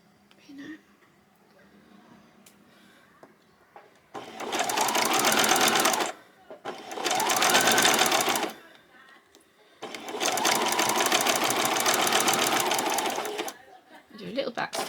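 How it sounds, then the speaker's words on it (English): A home sewing machine stitches a frill onto a swimsuit in three loud, steady bursts of motor whirring separated by short pauses, with faint handling sounds in the gaps. "Do a little back stitch."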